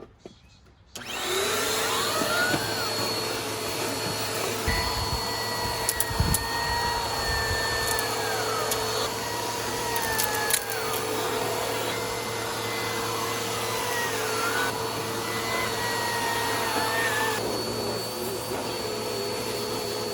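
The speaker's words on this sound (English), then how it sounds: "we're going to do one more vacuum and see how this back end area turns out" A vacuum cleaner runs steadily and loud for nearly the whole stretch, starting abruptly after a second of quiet as it works over the back end of a very dirty car's interior, with small knocks and bumps of the nozzle along the way.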